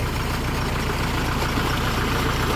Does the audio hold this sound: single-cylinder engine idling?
yes